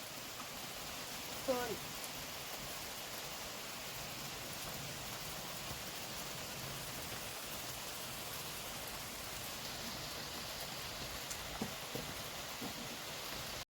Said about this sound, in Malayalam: അടിപൊളി അടിപൊളി മഴയാണ്